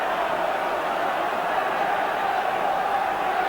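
Crowd noise in a football stadium during a Queens Park Rangers versus Manchester United match, a steady distant roar and murmur from the stands that holds at an even level throughout.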